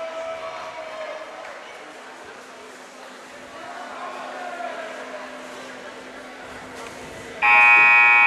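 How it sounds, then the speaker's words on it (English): A high school girls' basketball game in a gym: a steady murmur of crowd noise and talk, then a loud, sharp buzzer blares over it near the end. "Buzzer's going off."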